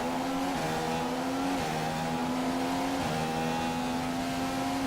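F1 race car in a video game accelerating hard out of a hairpin at the Chinese Grand Prix, the engine note climbing steadily through several upshifts, loud and continuous with no talk.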